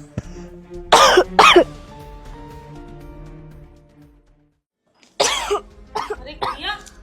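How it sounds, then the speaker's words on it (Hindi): A girl coughs indoors: two harsh coughs close together, a pause, then another cluster of hacking coughs, loud and near. "तुझे इतना खांस क्यों रही है?"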